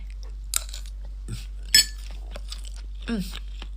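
Someone eats a meal of rice and fried omelette, with soft chewing and a few clinks of cutlery against a dish, close up and quiet, broken by brief spoken moments.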